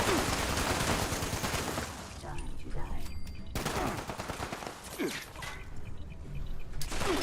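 Repeated gunshots crack and rattle in Fallout 76, dense bursts of firing with mechanical clatter, loud and close throughout, easing briefly in places before picking up again.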